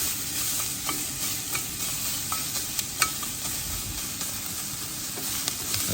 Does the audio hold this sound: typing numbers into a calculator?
no